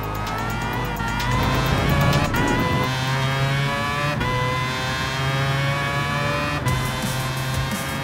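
Race cars including a Bugatti and a Mazda in the GT Sport video game: a steady, loud engine drone with shifting revs and gear changes, brief tire squeal, close up and without speech.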